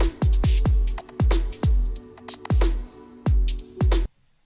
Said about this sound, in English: Now the drums that we have sound like this.